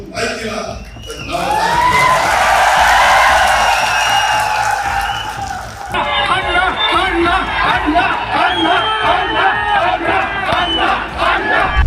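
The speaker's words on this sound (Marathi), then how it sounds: "घोषणा ऐकून सभेतील लोकांनी तुफान जल्लोष केल्याचं पाहायला मिळालं" Loud crowd roar and cheering at a sugar factory election rally, a dense swelling wave of voices that surges, then gives way to rhythmic chanting and whoops from the gathered supporters.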